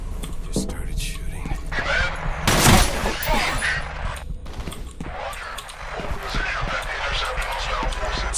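Gunfire in the horror shooter F.E.A.R. crackles in dense bursts, with a loud blast near the middle, over a noisy game soundscape while a voice talks.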